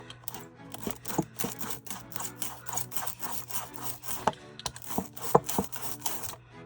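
Thick printing ink being spread for lino-cut printmaking: sticky scraping and tacky rubbing strokes repeat in an irregular rhythm, close and fairly quiet, with sharp clicks.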